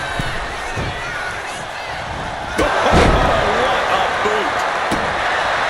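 A wrestling neckbreaker slam in the WWE 2K25 video game lands as a sharp thud over a steady roaring arena crowd, which swells louder after the impact, with a few more bumps following.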